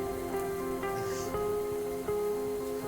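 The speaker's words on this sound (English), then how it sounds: "The intense rain drowned out all other sounds." Intense heavy rain falls in a steady, dense wash of drops on surfaces, constant and enveloping, with faint musical tones humming underneath and no voices.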